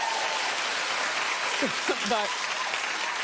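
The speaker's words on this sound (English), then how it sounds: "If you would just let me finish a story before you clap." A studio audience applauds steadily on a talk show, a dense, even wash of clapping that runs throughout while someone speaks briefly over it.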